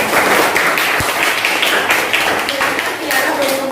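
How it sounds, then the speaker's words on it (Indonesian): Audience applause in a classroom for a student group that has just finished its presentation, a steady wash of clapping that runs throughout, with a single sharp tap partway through. "Aplaus dulu untuk kelompok 3."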